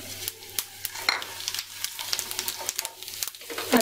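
Cumin seeds frying in hot oil with bay leaf, cinnamon, black pepper and asafoetida for a potato and pea curry: a steady close crackling sizzle with sharp pops and light stirring scrapes, with no talking.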